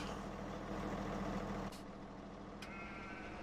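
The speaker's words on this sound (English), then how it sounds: "And let's pull this tractor up." Tractor engine running in Farming Simulator 17, a steady loud diesel drone that drops to a quieter idle partway through, with a couple of brief hissing bursts.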